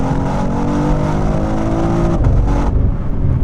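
2022 BMW X3M with competition pack accelerating flat out in second gear, a loud, close engine roar rising steadily in pitch, then a sudden shift in tone near the end as the revs drop.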